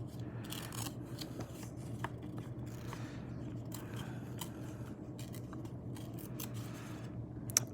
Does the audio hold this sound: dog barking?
no